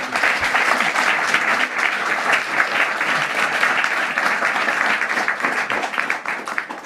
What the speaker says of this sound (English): can I get one final round of applause for our judges?